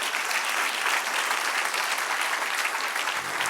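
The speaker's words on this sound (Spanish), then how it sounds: "Dale un aplauso al Señor" A church congregation applauding continuously, dense clapping that stays loud and even throughout with no voices standing out.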